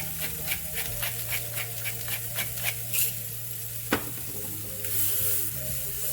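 Red bell pepper strips fry in hot oil with a steady close sizzle, punctuated by repeated stirring scrapes and a sharp clatter midway, with no voices.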